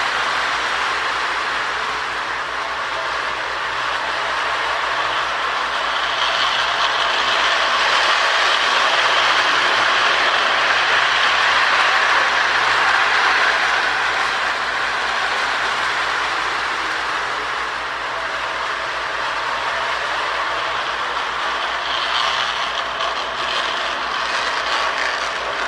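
A K-Line S2 model train engine runs steadily with a continuous close mechanical whir and rumble, its faint gear ratchet holding constant for the whole stretch with no talking.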